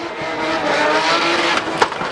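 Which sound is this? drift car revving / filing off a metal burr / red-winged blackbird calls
drift car revving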